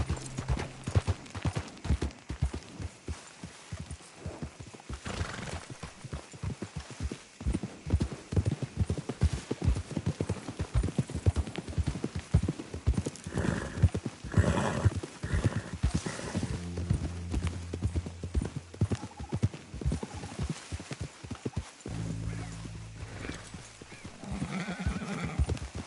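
A horse in Red Dead Redemption 2 gallops with rapid, steady clip-clop hoofbeats over a long stretch, breaking into a couple of loud neighs and whinnies midway and near the end, with no talking.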